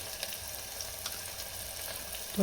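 Onion and tomato fry with spices in a pan for dal khichdi, a steady close sizzle running throughout and swelling slightly at the end.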